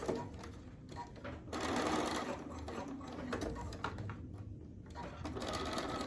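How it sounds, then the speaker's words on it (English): Sewing machine stitching an X across overlapped elastic, a rapid mechanical whirring chatter in short bursts with brief stops between runs, close and moderately quiet. "you're gonna overlap that elastic and stitch a"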